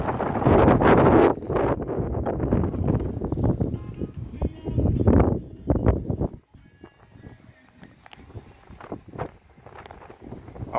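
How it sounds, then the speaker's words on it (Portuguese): Strong wind gusting across the top of a dam wall during reservoir repair work, loud buffeting rumble hitting the microphone in bursts, easing off toward the end. "Há um vento muito forte"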